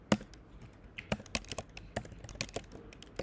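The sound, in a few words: typing on a computer keyboard while writing code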